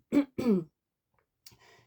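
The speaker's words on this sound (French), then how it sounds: "Je me racle la gorge" Two short, rough throat-clearing rasps close to the mic, followed after a pause by a softer, brief grunt.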